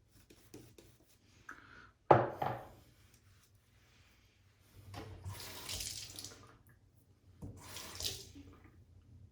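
Water runs from a tap in two soft gushes, separated by a sharp knock and quiet stretches, close and faint.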